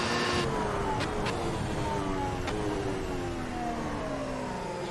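Ferrari SF90H engine in the racing game Assetto Corsa, revving and accelerating with a steady, loud mid-pitched drone and rising gear tones throughout, with no talking.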